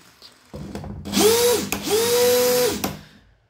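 A Dewalt cordless drill, with regular and hammer drilling modes, whirs up twice in close succession, each burst rising in pitch, holding steady, then winding down, loud and close with no talk.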